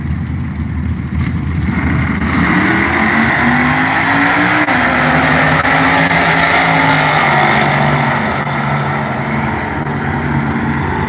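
A Ford F100 truck and a fourth-generation Camaro race down a drag strip at a Halloween drag racing event, engines roaring loudly and continuously as they accelerate through the gears, with rising and falling revs.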